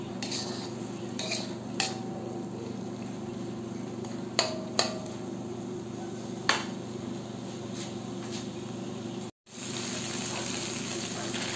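Pork binagoongan being stirred in a frying pan, a soft steady sizzle with occasional sharp clinks of a utensil against the pan.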